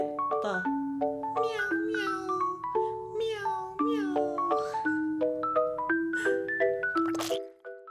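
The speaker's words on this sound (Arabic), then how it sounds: "قولوا معي قطة" A cat meows repeatedly in a series of high, tonal cries with rising and falling pitch, close and clear over a faint low hum, ending abruptly near the close.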